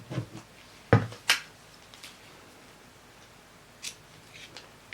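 Scissors trim thread on a satin fabric flower: a few crisp, close snips and clicks, with a couple of sharp cuts early, then faint handling rustles.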